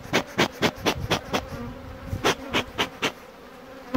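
Close buzzing of bees on a chestnut mountain, a string of rising and falling bursts as insects fly past the microphone, with a quiet background.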